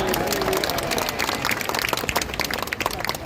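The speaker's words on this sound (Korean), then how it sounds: "우리 박수로 함께 올려드리겠습니다" Crowd clapping at an outdoor church rally against an anti-discrimination law, loud and dense applause with scattered cheers and some voices mixed in, filling the whole stretch.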